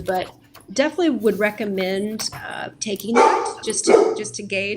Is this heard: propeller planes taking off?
no